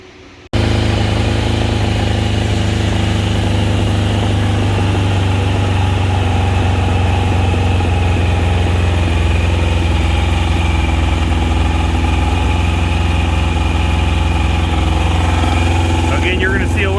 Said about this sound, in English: I'll go ahead and fire this thing up and make sure that it runs